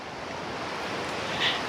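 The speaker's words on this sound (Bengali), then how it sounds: "বিচে জলের ঢেউ বিশাল জলের ঢেউ" Big sea waves wash onto a beach at Dakshin Purushottampur Lal Kankra, a soft continuous surf rush with light wind, swelling slightly toward the end.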